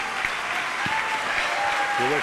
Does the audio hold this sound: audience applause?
yes